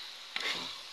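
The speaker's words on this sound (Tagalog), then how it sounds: "Haluin lang po natin to ng haluin" String beans are stirred in hot oil in a pan, giving a short scrape and a soft sizzle that lasts about a second. The sound is close and faint.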